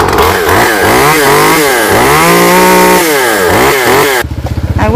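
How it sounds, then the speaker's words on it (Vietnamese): A chainsaw cuts a golden tree, a tall sao tree, standing near a fence line beside a narrow path. The engine roars very close and loud, revving up and down steadily, then drops to a choppy idle at the end. "còn em Cường thì cưa cây ở phía ngoài"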